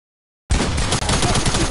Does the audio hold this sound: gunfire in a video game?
yes